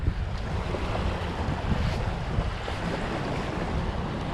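Broadband wash of surf on a home beach, steady and fairly loud throughout, with wind noise buffeting the microphone and no talking.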